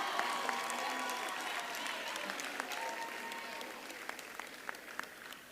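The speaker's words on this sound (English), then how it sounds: "give a round of applause to your lecturers, the academic staff, the support staff for all they did for you" Graduates at a Durban University of Technology autumn graduation ceremony applaud their lecturers and staff, a broad hall full of steady clapping at moderate level with a few sharper claps near the end and no talk.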